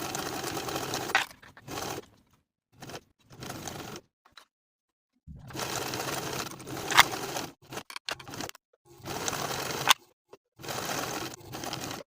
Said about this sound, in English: Sew with a 3/8 inch seam allowance, pivoting at the point of the neckline.